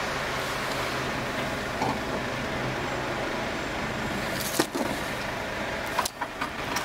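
A taxi car rolls along the street in the early-morning dark, a steady broadband road rumble with a few brief clicks and knocks near the end, no voices.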